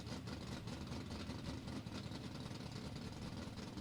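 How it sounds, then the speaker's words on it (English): A gold 1971 Pontiac Firebird Formula drag car with a 455 engine idles at a drag strip, a steady low rumble that sits close and fairly loud throughout, no talk. "Alan Hollingsworth up, that gold 71 Firebird. Formula bodied machine, 455 for motivation"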